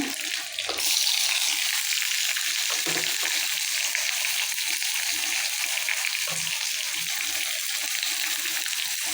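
Fenugreek seeds and curry leaves splutter in hot oil as tempering for an okra, tamarind and chili dish: a steady, dense crackling sizzle, close and fairly loud, with a few low knocks and no talk.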